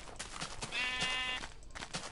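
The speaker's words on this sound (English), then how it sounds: "I'm kind of killing sheep here, bud." A sheep in the Minecraft video game bleats once in a short, wavering call, fairly clear over faint background noise.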